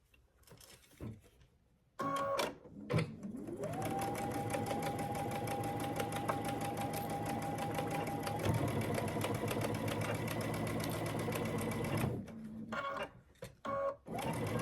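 A sewing machine runs steadily for about ten seconds, joining rows of a scrappy quilt block made from half square triangles. It whirs up to speed and holds a close, continuous hum, with light handling noises before and after.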